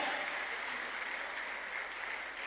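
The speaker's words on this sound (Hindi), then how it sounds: "जोरदार ताली बजाओ यार सर के लिए" Loud, steady applause from an audience welcoming a speaker at a leadership training event, a dense continuous wash of clapping with no voices.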